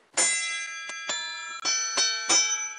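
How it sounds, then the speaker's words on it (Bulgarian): A children's kinetic sculpture chimes with a series of about six bright metallic strikes at uneven intervals, each ringing with long shimmering overtones that overlap the next, close and clear with no voices. "Кинетична скулптура, която звънти."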